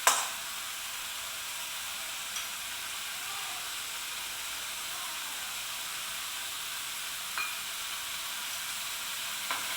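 Masala spice paste for chole sizzles steadily in oil, a continuous soft frying hiss with a few faint clicks, mid-level and close, with no voices.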